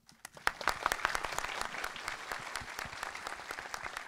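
Audience applause sending off the director and two cast members after a film stage greeting for the Japanese movie 'Our Blue Moment', a dense burst of many hands clapping that swells quickly and holds steady, close and loud, with no talking.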